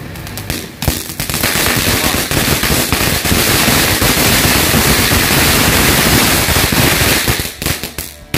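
Many firecrackers set off at night for an Eid al-Adha celebration, a dense, loud rapid crackle of bangs running continuously for several seconds, with a few sharp pops at the start and end.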